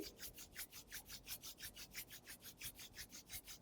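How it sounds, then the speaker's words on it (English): Palms rubbing together in a gentle at-home yoga exercise, a steady back-and-forth swishing with about four strokes per second, soft, close and continuous with no talking. "Gently bring your palms together, rub them."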